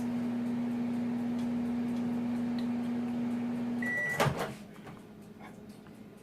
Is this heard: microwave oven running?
yes